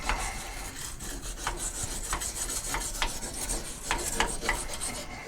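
A brush scrubs inside the cartridge housing of a Moen Posi-Temp faucet, giving close, scratchy rubbing strokes in an irregular rhythm, fairly quiet and with no talking.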